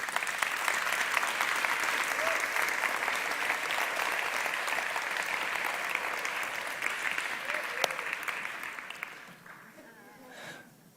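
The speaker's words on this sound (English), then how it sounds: "Give them a round of applause" A live audience applauds as two people are welcomed onto the stage at a coaching event, sustained dense clapping that stays even for several seconds and then tapers off into quieter room sound.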